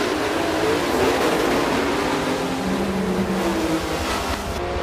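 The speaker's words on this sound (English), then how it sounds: "Racer number 22, Sugarcoat, is now racing for the very first time in a Koenigsegg Agera at Circuit de Barcelona-Catalunya" A Koenigsegg Agera engine roaring in a Forza 7 race at Circuit de Barcelona-Catalunya, a loud continuous drone with a broad rushing texture that holds steady for several seconds without speech.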